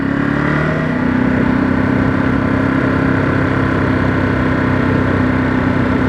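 A 2023 Ducati Monster SP motorcycle engine runs steadily and loudly throughout, a continuous low drone with a sustained tone that holds through the ride, no speech over it.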